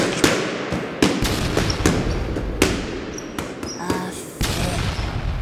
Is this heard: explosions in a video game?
yes